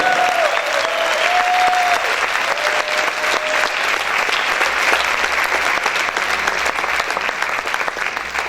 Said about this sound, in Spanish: Si ese aplauso es para el Señor, déselo fuerte.